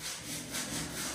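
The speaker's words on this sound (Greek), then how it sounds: "θα τρίψουμε το καλοριφέρ όσο μπορούμε με ένα γυαλόχαρτο" Coarse sandpaper, an old 120-grit sheet, scrubbing a rusty radiator during prep for repainting, a steady close rasping rub with rhythmic back-and-forth swells and no voices.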